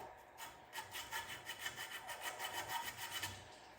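Folded emery cloth rubbed over the edge of an aluminum part to take off burrs, a faint, steady run of quick rasping strokes with no talk.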